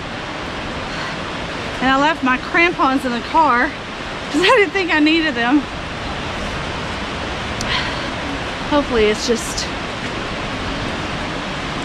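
A waterfall in Fall Creek Falls State Park on a snowy winter hike, its steady broadband roar filling the whole clip at close range while a person talks over it in bursts.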